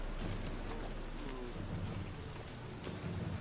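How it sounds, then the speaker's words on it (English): Steady rain pours down in a video game scene, a constant soft hiss of drops with faint low rumbles, quiet and unbroken, with no voices. "Looks like rain."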